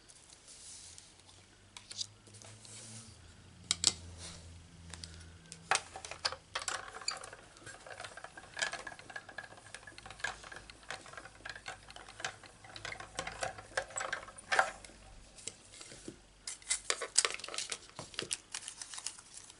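Paper being cut by hand to shape a leaf for a Stampin' Up fern card, quiet irregular snips and crinkling rustles scattered across a hushed room, close and soft.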